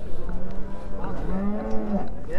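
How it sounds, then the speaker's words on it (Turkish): A cow with a calf at the Çubuk livestock market in Ankara gives a drawn-out, wavering moo, close and clear, over low market background noise. "Arkadaşlar sonunda pazarda buzağlı inek gördüm."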